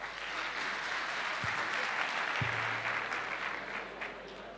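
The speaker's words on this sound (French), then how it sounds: "Vous voulez bien l'applaudir, s'il vous plaît?" An audience at a Chadian talent show applauds a contestant, with sustained, dense clapping at a steady level and a couple of brief low thumps partway through.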